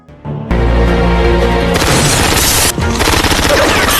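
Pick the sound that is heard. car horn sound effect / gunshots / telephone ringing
gunshots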